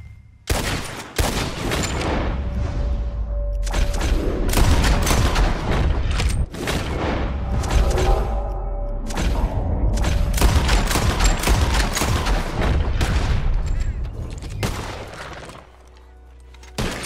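Sharp gunshots ring out in rapid succession during a shooting contest in Red Dead Redemption 2. The volley is loud and near, with shots overlapping almost continuously across the whole stretch before it briefly falls quiet.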